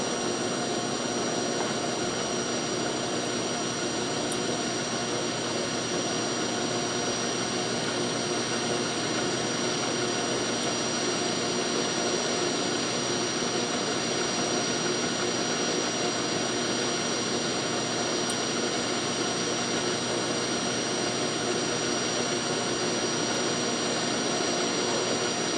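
A Cogsdill Burraway deburring tool is run into a row of holes, producing a loud, unbroken whirring drone that holds steady from start to finish.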